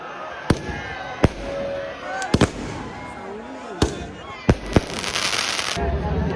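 Firecrackers burst at a crowded Dussehra festival, with about seven sharp, loud bangs spaced irregularly over a noisy crowd and chatter, the last few followed by crackling spray.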